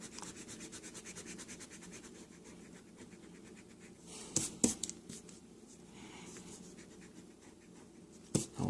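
Soft, steady rubbing of an eraser across paper, clearing pencil lines from a drawing, with a couple of brief louder scuffs; close and quiet, no talking.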